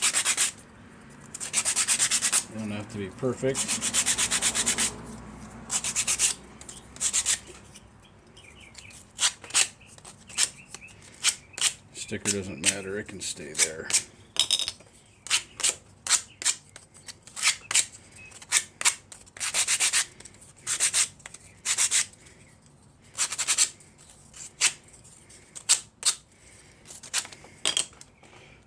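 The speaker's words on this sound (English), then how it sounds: "we'll just take a sanding block and clean these up" Repeated rough scraping strokes of a sanding block on wood, close and fairly loud, in quick rhythmic bursts with brief pauses, and a voice speaking at times.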